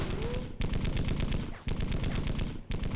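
Machine gun fire from the Darkwind: War on Wheels video game plays as dense, continuous rapid bursts, loud and close, with brief pauses between three sustained volleys.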